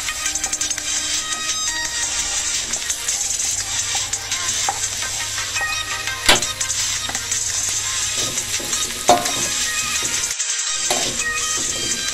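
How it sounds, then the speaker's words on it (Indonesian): Garlic and shallots sauté in oil in a pan, a steady close sizzle with soft scraping stirs throughout and a couple of sharper clacks of the utensil on the pan. "kita tumis bawang putih dan bawang merah hingga semuanya tercampur merata dan berwarna kecoklatan"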